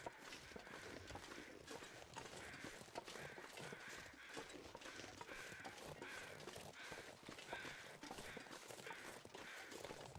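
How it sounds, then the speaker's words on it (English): Crows cawing in the survival video game The Long Dark, faint calls scattered over a steady outdoor wind-like wash with soft footfall-like thuds, distant and low in level. "I hear crows."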